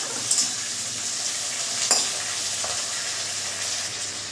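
Cashews frying in a pan with onion, garlic and tomato for a Bengali cashew chicken dish, giving a steady, moderately loud sizzle with a few brief stirring scrapes throughout.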